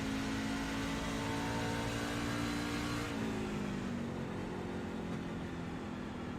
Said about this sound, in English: You can hear Matthew's RPM just a tad bit lower.